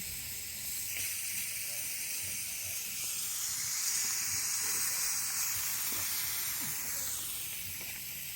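Meat sizzling on a grill outdoors at night in the countryside, a steady broad hiss running throughout with faint scattered crackles beneath.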